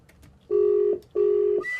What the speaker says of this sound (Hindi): अब उसी डॉक्टर को फोन मिला रहे हैं हम।